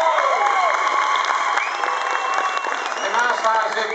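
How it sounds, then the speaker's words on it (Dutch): Applause and cheering from a crowd at a talent show opening in Tilburg, a continuous busy wash of clapping with shouts and voices mixed through it. "Heel hartelijk applaus voor groot talent"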